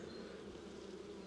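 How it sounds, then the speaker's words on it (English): Honeybees in an opened hive during a spring inspection make a steady, dense buzz, close and continuous, with no voices. "And there we go, lots of bees again."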